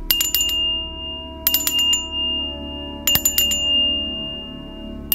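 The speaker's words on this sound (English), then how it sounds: "I'm going to ring the bell 3 times now." A small bell rung in a ritual to clear negative energy gives three bright, ringing strikes in three clusters, each with a few quick repeated hits and a long sustained tone that lingers between them, close and clear with no talking.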